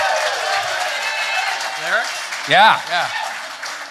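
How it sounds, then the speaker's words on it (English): Live podcast audience applause for a guest named Ryan, a steady wash of clapping from a crowd held throughout, with someone speaking loudly over it and a brief voice swelling near the middle. "Round of applause for Ryan"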